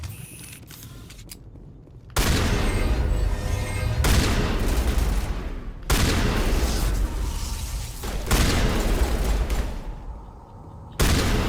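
Heavy shotgun blasts from Mass Effect come in several loud bursts, each followed by a short pause and rumbling, mechanical action noise between shots.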